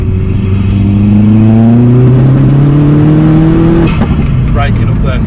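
A Vauxhall Astra VXR with a stage 3 hybrid turbo revs up loudly from inside the car, a deep rising engine drone that climbs then drops off, with speech faintly over the noise.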